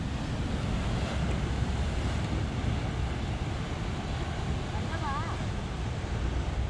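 Ocean waves surge and crash against the rocky coast at Yehliu Geopark in Taiwan, a constant loud roar of surf and wind noise with no break.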